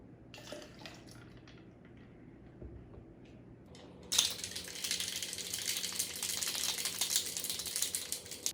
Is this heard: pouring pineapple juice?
yes